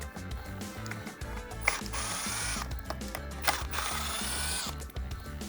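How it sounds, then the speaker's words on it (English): A T20 Torx bit backing out the arm pad screws on a Steelcase office chair, giving a continuous close ratcheting click-whir at an even pace, with no voices. "You've got your T20 Torx bit, and you got 4 screws on the bottom here, 1 in each corner."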